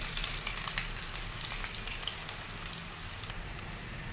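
Chopped onion goes into a pan of frying ginger and garlic for a Malayalam-style soya chunks masala, giving a steady, moderate sizzle with a few light stirring clicks and no voices.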